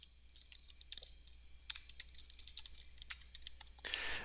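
Rapid keystrokes on a computer keyboard while entering a MATLAB command, a close, quiet run of irregular clicks in short bursts, ending in a brief rustle.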